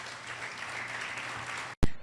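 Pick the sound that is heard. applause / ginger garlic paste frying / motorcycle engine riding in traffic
applause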